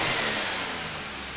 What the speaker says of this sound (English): Okay, that's enough to rev.